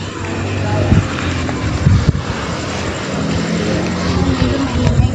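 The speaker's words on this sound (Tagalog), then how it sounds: "Medyo maingay kasi yung tabing daan." Roadside traffic beside a cemetery in Taal drones steadily as a loud engine rumble, with passing vehicles swelling now and then and faint voices underneath.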